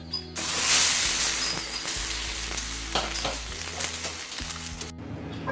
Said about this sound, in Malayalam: ഇതിൻ്റെ മുകളിലേക്ക് നമ്മൾ ഉണ്ടാക്കിയിട്ടുള്ള അട ഓരോന്നായിട്ട് ഇട്ട് കൊടുക്കാം